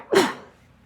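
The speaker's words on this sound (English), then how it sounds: "I'll be sneezing during the whole thing" A single close, sharp human sneeze with a quick voiced burst that fades into a soft breathy tail.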